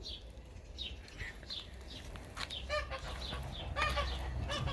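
Hens cluck and chatter in a steady flock murmur, with bursts of sharper calls and a low background rumble, no voices.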